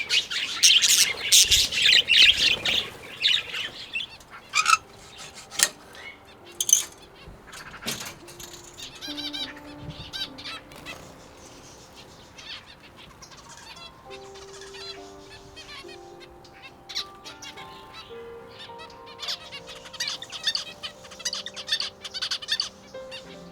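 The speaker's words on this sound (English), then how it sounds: "The zebra finches feel this aviary is their true home." Zebra finches chirp and squawk in an aviary, a busy close chorus of short bright calls and tweets with denser bursts at the start and end.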